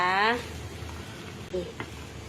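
Mulberry and pandan leaves boil in a pot of water, giving a steady soft bubbling hiss throughout, with a brief voice-like tone at the very start.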